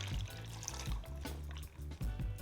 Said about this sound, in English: Then I'm gonna pour the pickling brine on top.